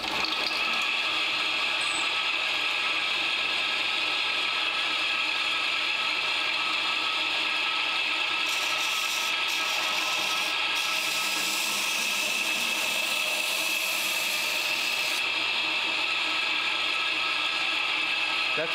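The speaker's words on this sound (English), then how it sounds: "I've just put a fresh 80 grit belt on here." A belt grinder fitted with a fresh 80 grit belt grinds the bevels of a heat-treated knife blade, giving a steady abrasive hiss and whir that swells for a stretch mid-way, with no talking.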